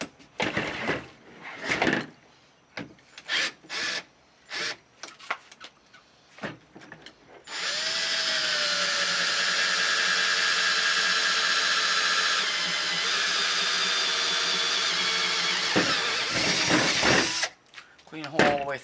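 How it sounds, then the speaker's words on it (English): A power drill with a 3/16 inch bit bores through a kayak seat, whining steadily for about ten seconds after some short bursts and bumps, then stops as handling noises resume. "Drill through the table."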